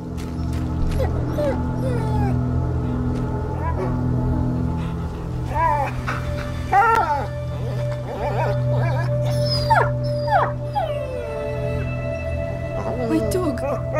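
Dog barking and howling in the video game A Plague Tale: Innocence, a few sharp yelps and wavering cries over a steady game ambience, with voices speaking at times.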